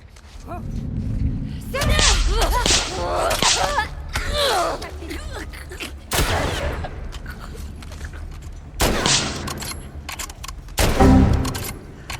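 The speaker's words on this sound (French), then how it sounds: "J'ai tiré dessus." Gunshots ring out in The Last of Us Part II survival mode, several loud sharp bursts scattered among game effects while someone talks over the action.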